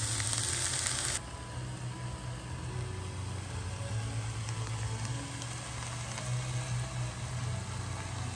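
Food fries in a pan over charcoal briquettes at an evening campsite in Crater of Diamonds State Park, a steady close sizzle with faint crackles and a low background hum, no voices.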